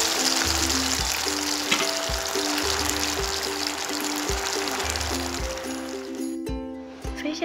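Rohu fish frying in hot oil over a low flame, a steady crackling sizzle that runs continuously and thins out near the end, with a faint repeating tonal pattern underneath.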